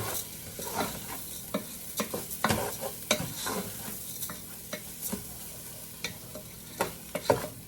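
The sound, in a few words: stirring rice and vegetables toasting in a pot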